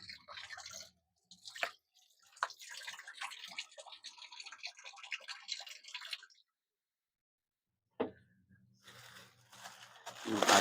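Green chili leaves are rinsed in water for batchoy, giving soft irregular splashes, drips and squishy handling sounds in short bursts with a quiet pause partway through, close and alone with no talk.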